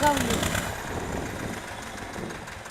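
An engine on a Polish farm runs loudly with a rough, throbbing drone that surges at the start and then holds steady, with a voice briefly audible near the beginning.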